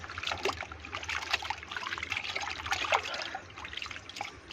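Cut pieces of spoiled pumpkin are swished in water, a soft, irregular trickling and sloshing of liquid heard close up and fairly quiet, with no talking.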